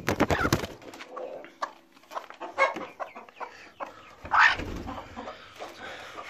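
A hen clucks repeatedly and close by, in uneven bursts with short pauses, some calls rising sharply, over light background noise.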